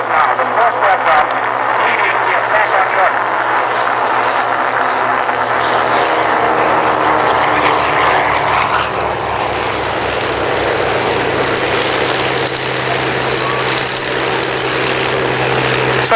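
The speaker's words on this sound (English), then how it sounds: "Taking off from here, we go now, the first aircraft." An aircraft taking off at Shoreham Airshow, its loud, buzzing propeller engine droning close by and holding steady as it powers away, with a faint voice at times.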